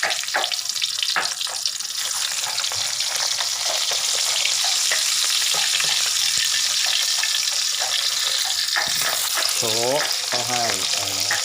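Mackerel frying in oil in a home kitchen pan, a steady loud sizzle throughout with clattering stirs and a brief splash of running water near the end.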